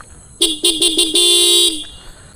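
A TVS Apache RTR 310 motorcycle horn sounds up close: four short loud honks in quick succession, then one long sustained blast of just over half a second, each a bright buzzy tone with strong harmonics, no voices.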